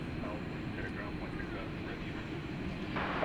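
A CRJ 701ER airliner on its landing approach at Dallas–Fort Worth airport at night, a steady, fairly distant engine roar that holds level throughout, with voices talking over it.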